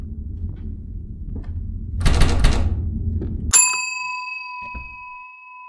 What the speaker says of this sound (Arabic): المفروض أرن الجرس مرة كمان.